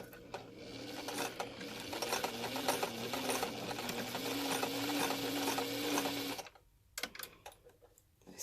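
A sewing machine stitches the seams of a small fabric chicken pin cushion, running steadily and loudly for about six seconds before stopping, followed by a few faint handling clicks.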